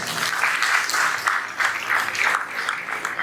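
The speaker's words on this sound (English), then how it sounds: "I request all of you to give a big round of applause to all the parents" An audience at a school parents' orientation gives a steady round of applause, dense and fairly loud, sustained evenly throughout.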